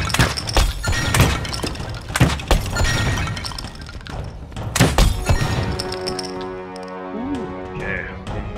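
A barrel smashes in the VR archery game The Lab, with sharp wooden thunks and breaking crashes scattered across several seconds, followed by a quieter tonal game sound near the end.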